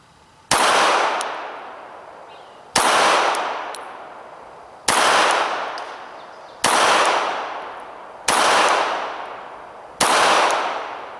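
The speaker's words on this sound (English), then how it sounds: "So we're going to just start with some nice slow shots and see how we do." A Sig Sauer P238 .380 pistol fires six slow, evenly spaced shots. Each is a loud, sharp crack with a long reverberant tail, and no one speaks.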